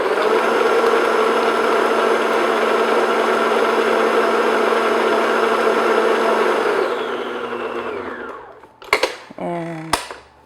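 An electric hand mixer whirs steadily as it beats an egg into gingerbread cake batter, loud and continuous for about seven seconds before winding down, followed by a few sharp knocks and clatters from the beaters.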